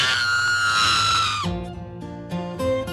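An actress lets out a loud, high, sustained scream that breaks off sharply after about a second and a half, then she talks.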